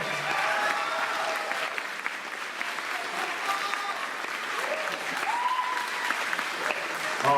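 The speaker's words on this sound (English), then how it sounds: "How about another round of applause?" A conference plenary session audience in Hilo applauds steadily for about seven seconds, a dense, even round of clapping from a large crowd with faint voices and a brief whoop mixed in.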